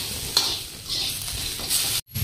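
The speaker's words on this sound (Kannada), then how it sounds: "ಇವು ಕೂಡ ಒಂದ್ ಸ್ವಲ್ಪ ಫ್ರೈ ಮಾಡ್ಕೊಂಡ್ಬಿಡೋಣ್ರಿ" Whole spices such as cinnamon frying in hot oil in a pan for fish curry, a steady bright sizzle with stirring scrapes throughout, ending in a sudden brief cut.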